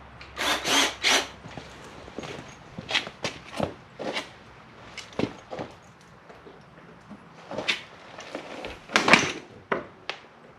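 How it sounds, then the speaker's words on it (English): Short bursts of a power drill whirring on and off in an irregular rhythm, each lasting about a second, with brief scraping and knocking between them. "Drill."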